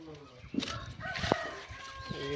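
Chickens clucking around a rural Tamil village yard, with a rooster-like call and short clucks standing out against a busy background of other calls and faint talk.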